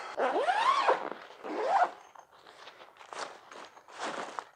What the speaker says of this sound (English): Unzip this.